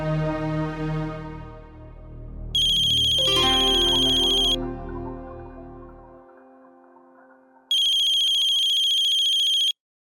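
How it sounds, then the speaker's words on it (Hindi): A mobile phone ringtone plays in two loud, steady electronic ringing bursts separated by a pause, following a fading musical tone, with no talk. "मैं कब से फोन कर रही हूँ, तू फोन क्यों नहीं उठाती?"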